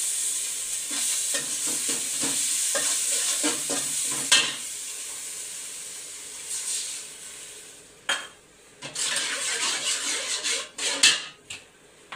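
Ginger and garlic sizzling in hot oil in a pan for aloo dum, stirred with a utensil in a run of scraping strokes and clacks, the frying hiss continuing between them, close and without talk.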